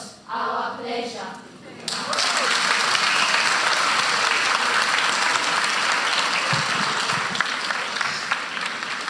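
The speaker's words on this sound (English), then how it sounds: "Is that clap enough for those children?" After a brief spoken line, a church audience breaks into steady, enthusiastic applause for a children's school skit, dense clapping that holds at full strength through the rest.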